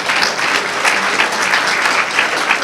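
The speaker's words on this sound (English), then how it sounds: "let's give him a round of applause just in spirit" Audience applause at the RightWay Foundation holiday luncheon at the USC Galen Center: a roomful of people clapping loudly and steadily, individual claps audible in a brisk, even patter that carries on without letting up.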